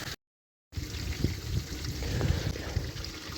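Water flushes out of a Chevrolet S10 radiator during a cooling system flush, a steady splashing trickle that starts abruptly after a short gap of silence and runs on close by.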